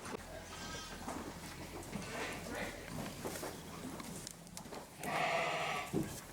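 Sheep bleat faintly at a farm where lambs are fostered onto ewes, one clearer bleat rising near the end over a murky, rustling background with people talking.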